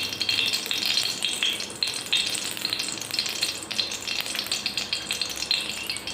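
Ghee sizzles steadily in a pan of carrot halwa on a lowered flame, a continuous bright, crackling frying hiss heard close with no voices.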